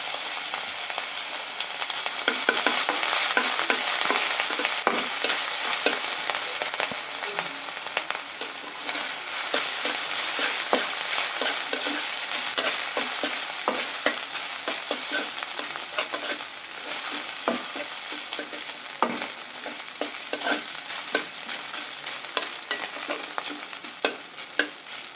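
Ginger being stir-fried with bottle gourd, a continuous bright sizzle with frequent small clicks and scrapes of stirring, heard close and alone for a long stretch.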